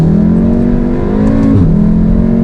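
A VW Golf R fitted with a JB4 Stage 1 tune accelerating hard out of a corner, its engine note loud and close, rising steadily with a brief dip at a gear change before climbing again.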